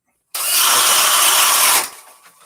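A DeWalt power tool running at speed 3 on an 8 Ah battery cuts through material in one loud, close, continuous whine lasting over a second, then stops abruptly and fades into quiet room noise.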